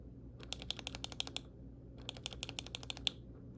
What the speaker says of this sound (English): you can hear the tactile bump